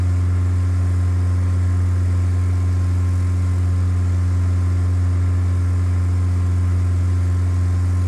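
Steady, loud propeller aircraft engine drone in Microsoft Flight Simulator X, a constant low hum with strong tonal harmonics and no variation or talk.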